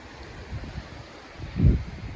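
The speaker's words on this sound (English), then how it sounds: "that wind is just raging" Strong wind gusts buffet the microphone outdoors on a cold late-September harvest day, a low rumbling roar that surges into a heavy blast near the end.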